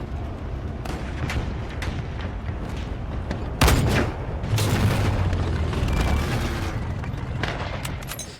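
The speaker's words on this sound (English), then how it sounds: "PTRD is still firing" Soviet World War 2 PTRD 14.5mm anti-tank rifle firing at steel, a single heavy boom partway through, loud and sudden, over a constant noisy outdoor background.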